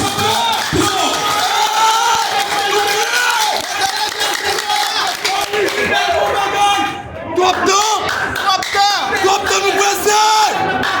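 A large crowd claps, cheers, yells and whoops loudly and continuously to greet a newly presented departmental delegate at a public gathering, with a brief dip before the roar resumes.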